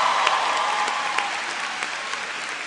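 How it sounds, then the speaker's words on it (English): A large crowd of graduates at a college commencement ceremony applauds in a thick, continuous roar of clapping that echoes through a big venue and fades slightly over its length. "Give yourself a round of applause."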